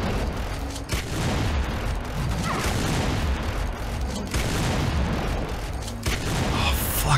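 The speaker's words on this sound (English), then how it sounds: "Oh, fuck, that is a cool shotgun." Shotgun blasts in the Supplice shooter, heavy booming shots repeated amid constant chaotic combat noise, with a few sharper reports standing out over a dense din.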